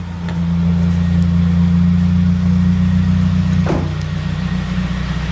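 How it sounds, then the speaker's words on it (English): Car engine running at idle in a parked vehicle with the e-brake down, a loud, close, steady low hum holding an even rumble throughout, with a brief faint clunk near the end. "Turn the car on"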